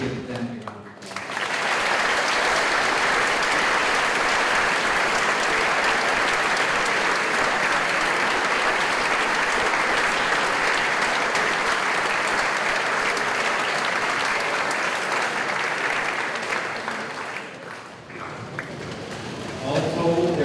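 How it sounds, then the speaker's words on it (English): Hall full of people at a school term opening giving new students a long, loud round of applause, dense steady clapping that swells and carries on for nearly twenty seconds before tapering briefly. "Let's give them a round of applause."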